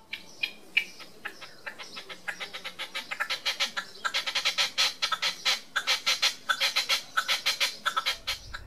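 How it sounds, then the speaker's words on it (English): Red-legged partridge calling in the British countryside, a long run of rapid, rhythmic chuffing notes that grows steadily louder and denser, close and clear with no talk over it. "Here is a red-legged partridge's call."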